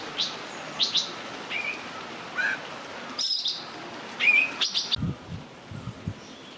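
A common South Asian bird calls with brief chirps and tweets from a Sri Lankan hillside near Kandy, faint and somewhat distant against a hissing outdoor background, with a few soft low thumps near the end.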